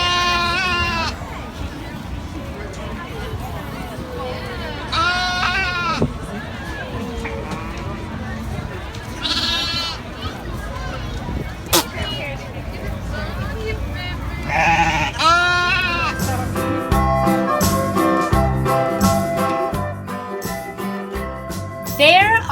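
Mother sheep and baby lambs bleating on a farm, repeated calls of varied pitch with a faint jingle and people talking in the background, then music joins near the end.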